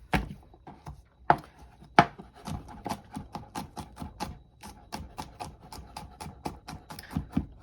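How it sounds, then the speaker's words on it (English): A knife chops garlic cloves on a cutting board in a home kitchen, giving a steady run of quick, sharp, close taps with no talking. "We have 3 little pieces of garlic. So I just smash up and chop up rough real quick."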